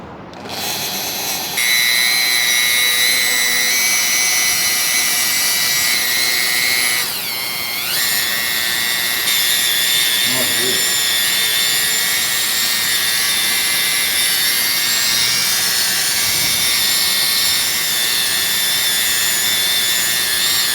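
Power tool spinning a foam polishing bit loaded with Pro Red compound inside the window of a forged wheel, a loud continuous high whine from start to finish with a brief pitch sweep partway through.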